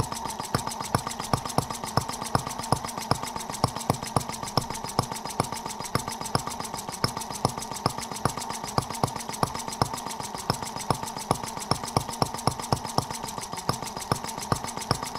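A Microcosm Benz R18 model radial engine runs smoothly with a fast, even train of sharp firing pulses, steady in rhythm and fairly close.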